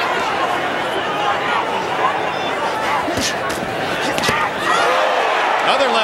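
A boxing arena crowd reacts with a loud burst of cheers and chatter to a left hook landing in a Gatti versus Branco fight, with a few sharp slaps and thuds rising through the steady roar.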